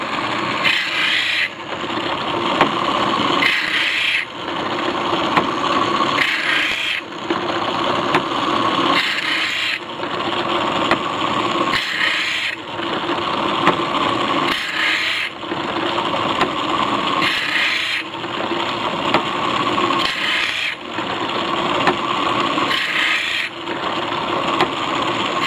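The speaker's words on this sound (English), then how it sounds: "We got the Burt band blade sharpener going on here." A Burt band saw blade sharpener runs with a steady mechanical hum and a rhythmic grinding cycle that repeats roughly every second and a half, close and fairly loud throughout.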